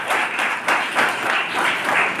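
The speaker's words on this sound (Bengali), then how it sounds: "সবাইকে বলবো একবার জোরে করতালি বাজিয়ে তাদের জন্য" An audience applauds the top finishers of a chess competition for blind players, held by the All Tripura Blind Committee at a press club. The clapping is steady and fills the room, swelling in waves with no talk.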